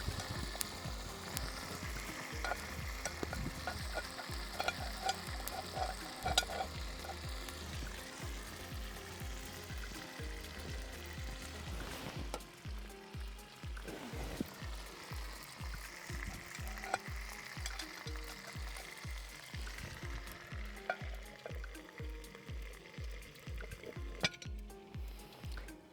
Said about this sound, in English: That was a sizzle.